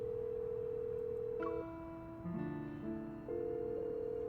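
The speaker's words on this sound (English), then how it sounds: "I pause and try calling him again." In a mobile game's memory story, a phone call rings unanswered, with long steady tones and short beeps repeating over a low background hum and no voices.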